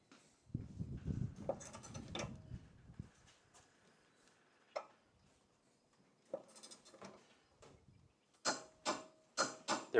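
Torque wrench tightening a mower blade bolt on an EGO Z6 42-inch zero-turn mower, heard as close, intermittent mechanical clicks and short ratcheting bursts with quiet gaps between them and a quicker cluster of clicks at the end.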